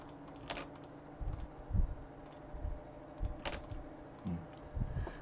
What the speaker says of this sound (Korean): 딜리트라고 타이핑을 해야 또 지워집니다.